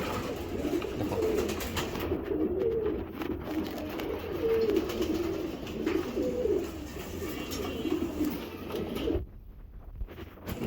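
Racing pigeons, including a dark checker cock bird, coo in a steady run of low, throaty, rolling calls close by, overlapping one another almost continuously before fading near the end.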